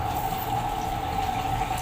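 A glass of water poured into a pan while cooking sautéed cabbage with sardines over a used-oil stove makes a faint, steady liquid rush, with a constant hum beneath it.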